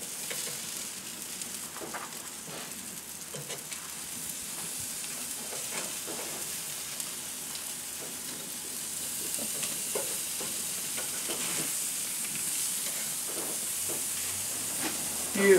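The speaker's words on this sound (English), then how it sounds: "so now we're going to flip the steaks" Steaks sizzling on a grill: a steady, close frying hiss runs throughout, with faint scraping and clatter as the meat is flipped.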